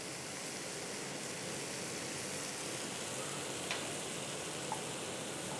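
Egg masala with chicken masala, garam masala, fennel and cumin powders sautéing in a pan, a soft continuous sizzle and hiss at low level, with a couple of faint clicks of stirring and no voices.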